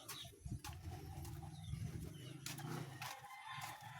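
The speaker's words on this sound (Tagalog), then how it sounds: "Kaya tayo magpapakain naman ng ating alagang manok." Pet chickens at afternoon feeding time cluck and coo near the listener while a rooster crows and other birds call around the yard.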